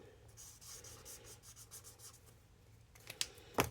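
A fine glitter pen draws a thick line across paper with soft scratchy rubbing strokes in a quiet room, ending in a few sharper taps and clicks.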